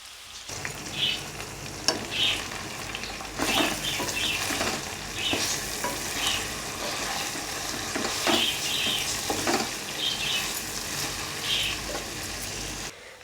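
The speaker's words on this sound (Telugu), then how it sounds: "ముందుగా కట్ చేసి పెట్టుకున్న దొండకాయలు వేసుకోవాలి. మూత పెట్టేసుకుని 5 నిమిషాలు వేయించుకోవాలి." Cut ivy gourd frying in a covered pan, a continuous even sizzle with crackling pops and occasional soft stirring bumps, close and steady with no talk.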